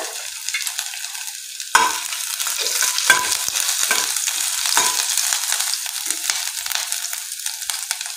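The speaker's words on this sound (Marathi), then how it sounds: "सोबतच एक छोटा चमचा अद्रकही छान चिरून घेतलेला आहे ते टाकूया।" Finely chopped ginger dropped into hot oil in a pan and stirred: a sudden burst of loud, steady sizzling starts a moment in and continues close up, broken by occasional scraping stirs, with no talking.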